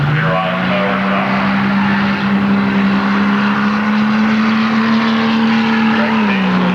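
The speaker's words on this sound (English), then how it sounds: "Glad Sam out of Harrison Township with the Mustang 302 here on tower side." A Ford Mustang 302 drag races at Milan Dragway, its engine droning loud and close in a sustained roar that climbs steadily in pitch through the gears before dropping away, with a voice over the public-address system faintly underneath.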